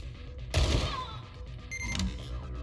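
Gunfire in the video game Cyber Knights: Flashpoint: a sharp burst of shots with a crashing impact, followed by a second smaller hit over steady background game noise.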